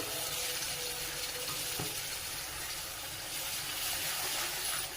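Masala paste sautéing in hot oil in a pan for a paneer and green pea curry, with a faint, steady sizzle and occasional crackles throughout.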